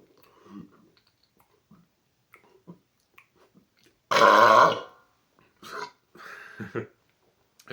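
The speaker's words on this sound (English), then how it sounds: "Even though there's like no carbonation in this thing, that was a very fizzy burp." One loud, fizzy burp comes after drinking a Coke Zero Cherry Float. Small mouth clicks and smacking sounds come before it, and brief throaty noises follow in an otherwise quiet room.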